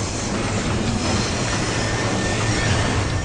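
Train rolling in the video game Crysis 3, a loud steady rumble and rushing roar of rail cars in motion, continuous with no break or speech.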